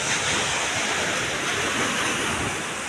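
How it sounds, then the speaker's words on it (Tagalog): Ocean waves surge onto the shore at Infanta, Quezon, a loud, steady broadband roar of breaking surf with wind buffeting the microphone, no talking. "Lumalakas po ang alon, oh."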